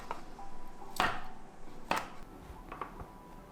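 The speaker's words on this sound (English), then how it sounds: "so we're gonna start by cutting our prawn fritters." A knife cuts through crispy prawn fritters on a board, giving two sharp crunching chops followed by lighter crackles, close up and otherwise quiet.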